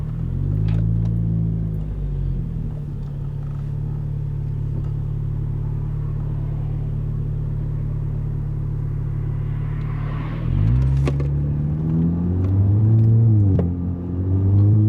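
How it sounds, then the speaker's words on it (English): An Audi S3 8V accelerates with its dual-clutch gearbox, a steady close engine rumble broken near the end by quick, smooth shifts as the pitch drops and climbs again. "Look how smooth you can get those gear shifts."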